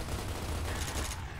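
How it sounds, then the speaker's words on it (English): A troika mounted machine gun in Gears of War Ultimate Edition hammers out a dense, continuous burst of rapid fire, loud and close, with battle noise under it. "Somebody else besides me shoot at the troika."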